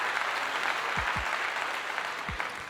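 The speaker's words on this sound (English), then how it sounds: "Clap it again." An audience claps steadily for a few seconds, a dense even patter of many hands with no voices over it.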